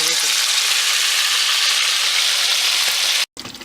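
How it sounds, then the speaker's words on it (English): Beef frying in canola oil on a stove gives a loud, steady, hissing sizzle that continues without a break, then cuts out abruptly near the end before a quieter, spattering sizzle resumes. "I have my oil, canola oil on the stove, and I'm going to use it to fry my beef"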